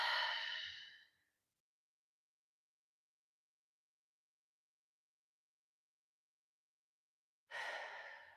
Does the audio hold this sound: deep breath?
yes